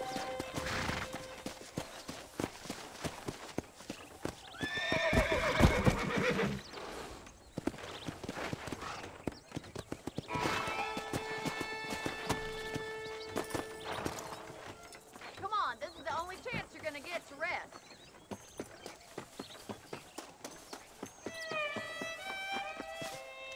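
Horse hooves clip-clop steadily in the Western video game Red Dead Redemption, with brief whinnies, under game music, gunfire-like crashes and voices talking.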